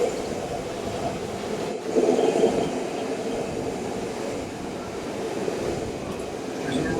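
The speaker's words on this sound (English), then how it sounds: "There's the train." A train rolls past in Switzerland with a steady, rumbling clatter of wheels on rails, holding at a moderate, even loudness throughout.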